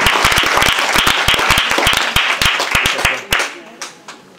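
A church congregation bursts into loud, sustained applause, dense rhythmic clapping from many hands that holds steady and then thins to a few scattered claps at the end.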